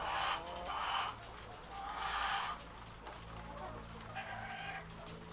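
Egg-laying hens in a chicken coop cluck in repeated bursts, moderately close, with a rooster crowing among them.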